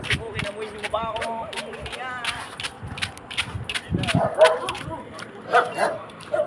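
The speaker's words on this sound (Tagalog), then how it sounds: "May aso." A dog barks and yips in short bursts, close by, over a lot of talking and movement, with the barks clustered toward the end.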